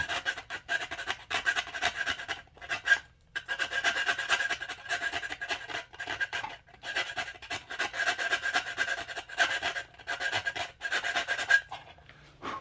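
Abrasive grit sands a rod build part in long, continuous rasping passes, close and steady, broken by a few brief pauses between strokes.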